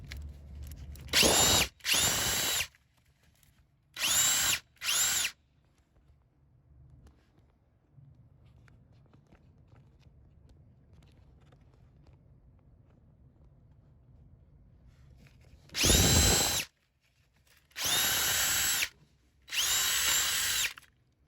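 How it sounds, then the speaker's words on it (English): Loud power drill bursts in short runs, slowly drilling into a seized fuel injector on a Ford EcoBoost engine, a couple early then three more after a long quiet stretch with faint background hum. "I'm just taking a vacuum, cleaning it out as I go, and slowly drilling"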